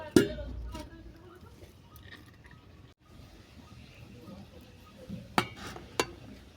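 A dish set down over a pan of jujube (kul) pickle as a cover, with a sharp metallic clink at the start and two more clatters near the end amid quiet kitchen background.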